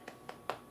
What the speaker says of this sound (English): clap my hands